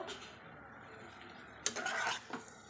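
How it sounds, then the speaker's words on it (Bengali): Spinach and salt being stirred in a cooking pan, a quiet scraping start that turns into a louder burst of metal utensil clatter and scraping for about half a second, then a few softer stirring sounds, with no voices. "আর এখন দিয়ে দিচ্ছি লবণ, দিয়ে একটু নেড়ে দেবো"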